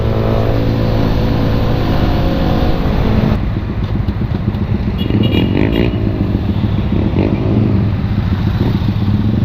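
Honda Winner X and Yamaha Sniper 150 motorcycles on a long group ride, a loud, continuous roar of engines and rushing wind that shifts partway through, with no break in the noise.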